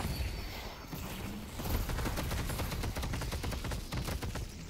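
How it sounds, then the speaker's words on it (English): Gunfire in the video game Deadlock, a steady stream of rapid shots and bursts crackling through the whole stretch at a fairly constant loudness, with dense clatter and no clear talk on top. "Who's shooting me?"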